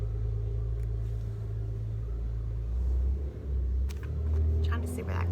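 A car passes outside, a low, steady road rumble that swells and then eases away, heard from indoors with faint background noise.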